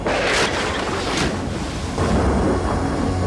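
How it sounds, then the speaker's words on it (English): Thunder rolls through a storm scene in The Truman Show film, with loud broadband rumbling and two sharp cracks early on, then continuous heavy roaring that swells again near the end, with no voices. "Throw a hurricane at him. They're gonna kill this poor guy. Give me some lightning."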